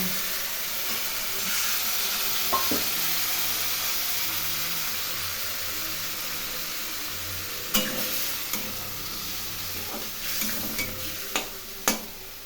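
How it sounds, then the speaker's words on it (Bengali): Spice paste frying with a splash of water for a Bengali rohu fish and potato curry: a steady bubbling hiss fills the pan, with occasional louder clinks and scrapes of stirring toward the end. "এখন অল্প জল দিয়ে এই মশলা আমি কষিয়ে নেব।"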